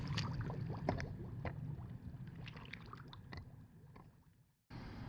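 A Dolphin Proteus DX5i robotic pool cleaner sinking into a swimming pool, with soft gurgling, bubbling and sloshing water that fades over several seconds before a brief louder splash-like noise at the end.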